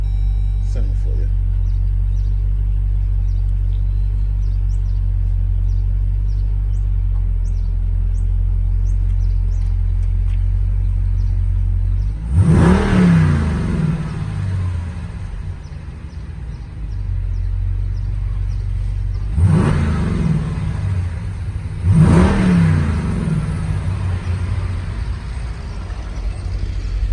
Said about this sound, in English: It's a couple of revs.